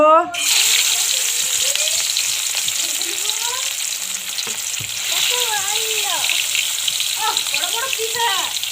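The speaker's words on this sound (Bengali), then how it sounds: "আমি তেল নিয়ে নিয়েছি, মাছগুলো একে একে ভেজে নেব।" Small fish frying one by one in hot oil for a Bengali mustard-tomato fish curry: a loud, steady broadband sizzle lasting throughout, with a voice talking over it in the middle and near the end.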